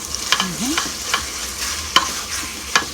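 Ground beef fries in a pan on a stovetop for quick chili, with a steady sizzle broken by repeated sharp scrapes and clacks as it is stirred, close and with no talking.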